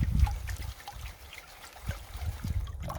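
River water sloshing and trickling as gravel is washed in a gold pan beside the Trinity River in California, a close, continuous swirling with low splashy surges and gritty rattling of stones.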